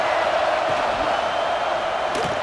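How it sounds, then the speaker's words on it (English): Stadium crowd noise from the video game EA Sports College Football 26, heard as a dense, steady roar of a large crowd. It holds constant throughout at a loud level, with a few faint bumps within it. "This crowd bringing the energy and noise early."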